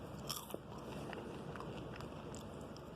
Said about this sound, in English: Sorry, I know I'm chewing again.